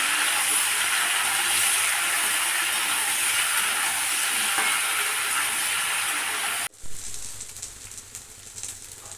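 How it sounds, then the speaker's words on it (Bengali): Young jackfruit pieces frying with potatoes in hot oil give a loud, steady, dense sizzle that cuts off abruptly near the end, leaving a softer crackle and a few stirring scrapes. "এবার আমি এঁচোড়টা দিয়ে দিচ্ছি। এবার এটা ভালো করে সব দিকেই ভেজে নেব।"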